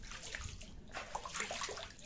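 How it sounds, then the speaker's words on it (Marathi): Cold water pours down from the rocks above along a trek route on Kalavantin Durg fort, a close, steady rushing and sloshing that carries on alone throughout. "हे वरनं पाणी येतो"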